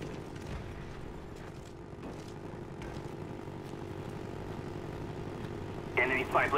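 A propeller spy plane drones overhead in Call of Duty: Black Ops, a low steady engine hum beneath game voice announcements and brief battle effects.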